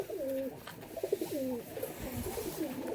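Lakkha (fantail) pigeons cooing close by, a pair offered for sale, with repeated soft rolling coos over a steady background hum.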